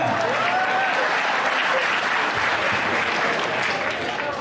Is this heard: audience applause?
yes